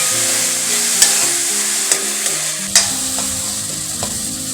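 Oyster mushrooms frying in a pan, a steady close sizzle throughout with a few sharp clicks of a spoon or spatula striking the pan, no voices.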